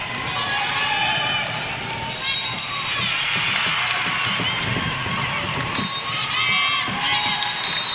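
Crowd at a 2010 state 2A high school game cheering for the Lady Warriors, a loud sustained roar of shouts and high-pitched voices that swells and dips across the clip.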